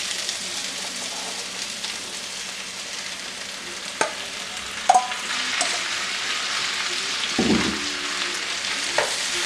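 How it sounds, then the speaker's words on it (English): Diced potatoes fry in a hot cast iron pan with sausage and onions, a steady close sizzle broken by a few clanks and scrapes as they are stirred. "what we want to do is we want to cook the potatoes."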